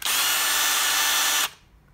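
A power drill whirs loudly and steadily for about a second and a half, then cuts off abruptly, leaving faint room noise.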